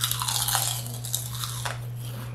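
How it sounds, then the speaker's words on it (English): Crunching and chewing on crisp homemade kale chips close to the mic, with a steady series of brittle bites and crackles over a constant low hum. "Do you guys hear this crunch?"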